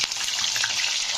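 Potatoes sizzle steadily in hot oil, cut and washed large potatoes frying toward a reddish brown for a jackfruit curry, with a dense, continuous crackle and no talk.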